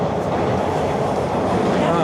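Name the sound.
Toronto TTC subway train riding late at night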